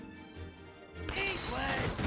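A burst of rapid gunfire breaks out about halfway through during a Valkyria Chronicles 4 battle. It is preceded by quieter ambience and continues as a dense, crackling volley to the end, with a voice heard over it.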